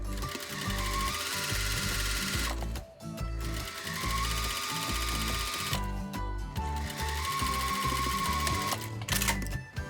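Sewing machine running fast to stitch the top edge of a cafe apron, a loud close mechanical whir in long bursts that stop briefly twice before starting again.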